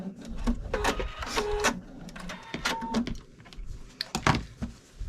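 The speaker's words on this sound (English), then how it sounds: "we're going to sew around with a normal foot 3/8 inch seam" Sewing machine stitching a 3/8 inch seam with a normal foot, heard as short rapid mechanical whirring bursts with pauses between runs, fairly close.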